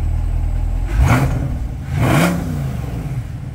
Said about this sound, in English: Love the sound of that engine. Rev it up, Josh.